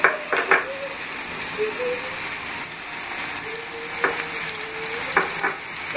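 Red chilli, turmeric and other spices frying in hot oil for bhindi, a loud steady sizzle with repeated close stirring scrapes and clinks running throughout, no voices.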